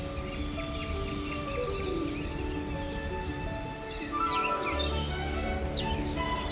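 Birds chirp and call in a botanical garden in Chennai, their bright twittering steady through the clip and growing busier toward the end over a continuous tonal background.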